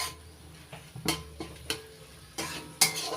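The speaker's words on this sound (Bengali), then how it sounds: "এবার নাড়াচাড়া করে মশলার সঙ্গে আবারও ভালো করে কষিয়ে নিচ্ছি" Mustard and poppy seed paste being stirred with spices in oil in a pan, with soft sizzling and a few scraping strokes of a spatula against the metal, close and fairly quiet.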